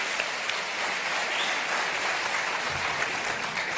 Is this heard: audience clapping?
yes